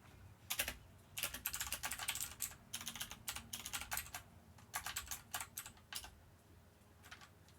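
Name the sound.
typing on a computer keyboard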